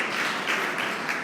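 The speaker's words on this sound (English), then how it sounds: "Please give them a round of applause." A brief burst of audience applause at a Social Media Breakfast event in Minneapolis, many hands clapping together in a fairly close, dense patter with no talking.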